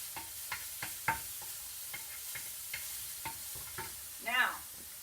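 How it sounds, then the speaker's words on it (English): Peppers and onions cook in a pan for a cauliflower-crust pizza, giving a quiet sizzle with scattered soft clicks and stirring taps, and a brief louder scrape near the end. "my pepper and onions and everything's cooking over here"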